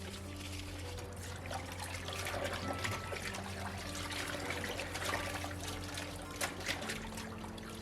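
Water splashes and trickles steadily as salted cabbage for kimchi is rinsed, a continuous soft wash of running water with a low background hum and occasional louder splashes.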